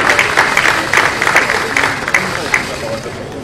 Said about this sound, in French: Est-ce qu'on peut applaudir toutes les acclamations, je vous en prie?